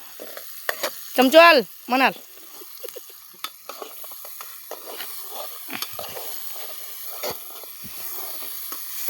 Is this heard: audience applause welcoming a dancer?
no